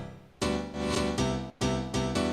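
Reversed, chopped piano chords swell up in a series of sustained blocks, each fading in and cutting off abruptly, with a short gap near the middle and a stuttering repeat toward the end.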